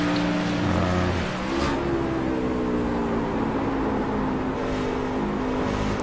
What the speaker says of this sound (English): he's downshifting in the turn